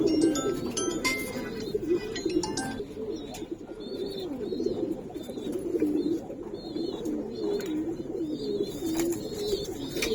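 Giribaz and coloring pigeons coo continuously in a low, throaty chorus from several birds nearby, with occasional chirps and small metallic clinks over the top.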